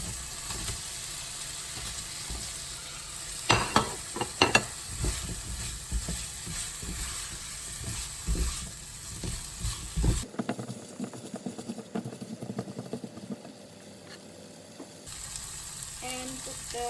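Potato pieces sizzling and frying in a pan for spicy sardines, a steady dense hiss with scattered crackles and a few sharper stirring scrapes, fairly close and continuous, briefly dipping quieter midway before resuming.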